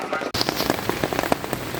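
Heavy rain pours onto a camper van and its awning at a provincial park campsite, a dense, close drumming with sharp individual drops spattering throughout and no voices.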